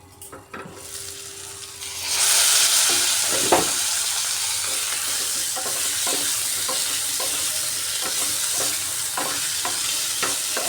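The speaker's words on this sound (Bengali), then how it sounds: "এতে করে আলুটা ভাজাও হয়ে কিছুটা নরমও হয়ে যাবে" Potatoes fry in a covered pan, a steady loud sizzle starting after a couple of seconds and running on alone, with faint clicks and scrapes.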